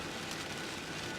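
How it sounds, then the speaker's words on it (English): Steady, dense rain falls during a rainstorm, a continuous broadband hiss with no gaps or distinct drops, fairly even and moderately loud throughout. "We were waiting on the rain to lighten up just a little bit."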